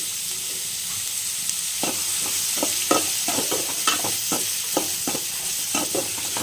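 Onions and curry leaves fry in a pan for a bitter gourd palya, a steady sizzle with a run of sharp stirring clicks and scrapes from about two seconds on, and no voices.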